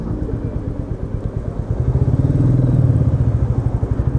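A Royal Enfield Meteor 350 single-cylinder motorcycle pulls off, its steady thumping exhaust pulse loud and close, rising slightly as it gets under way, with no talk.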